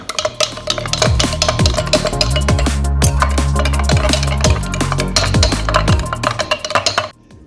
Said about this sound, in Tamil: விட்டு நல்லா மிக்ஸ் பண்ணிக்கலாம்.